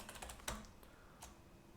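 Fingers tap out a short burst of keystrokes on a computer keyboard, quiet and close, with a few quick clicks and one firmer press, then isolated taps.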